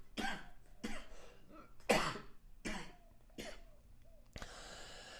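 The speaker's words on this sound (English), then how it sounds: "Let me just cough a little bit." Several separate coughs from a marathon coach, roughly six sharp bursts spaced about half a second to a second apart, close and fairly loud with brief pauses between, ending in a rougher breathy hiss.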